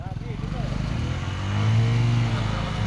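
A motorcycle engine runs steadily on a rough trail ride, its low rumble rising and holding as it pulls along, with people talking over it.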